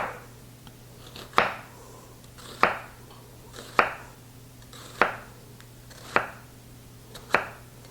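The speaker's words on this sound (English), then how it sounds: "I'm going to cut this into very thin slices." A knife cuts thin slices of a peeled vegetable on a cutting board for a cold pea salad, with six sharp, evenly spaced thunks about a second apart against a quiet background.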